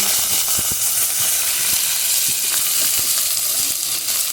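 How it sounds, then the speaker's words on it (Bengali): Ginger, cumin, coriander, onion paste and chopped tomato sizzle loudly in a hot pan in a village kitchen, a steady dense hiss broken by small sharp crackles and pops throughout. "এবার একসঙ্গে আদা জিরে ধনে পেঁয়াজ বাটা দিয়ে দিলাম কেটে রাখা টমেটোটা দিয়ে দিলাম"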